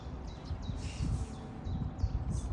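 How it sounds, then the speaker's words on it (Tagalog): Birds chirping and twittering outdoors in a breezy, peaceful yard, short high calls repeating faintly over a steady low rumble of wind. "Ang ganda pakinggan ng mga ibon."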